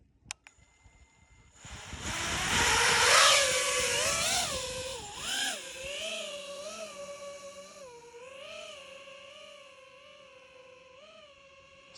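An FPV quadcopter drone spools up from a faint start into a loud, buzzing whine, then drifts up and down in pitch with the throttle and gradually fades as it flies away.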